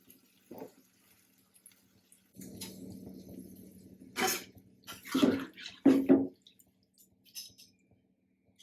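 Water is poured into a pan of spiced rui fish curry in a few short bursts, a low splashing stream followed by louder pours and drips, with quiet gaps between them.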